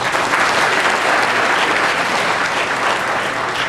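Sustained church audience applause for State Representative Larry Womble, a loud, dense wash of many hands clapping steadily throughout with no break, indoors in St. Stephens Episcopal Church, Winston-Salem.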